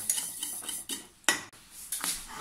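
A utensil scrapes and knocks against a pot while chocolate custard for a flan is stirred, a few distinct clinks and scrapes spaced irregularly over quiet kitchen background, close and moderately loud.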